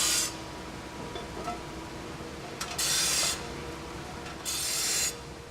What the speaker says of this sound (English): The grinder will remove any sharp edges left from the gating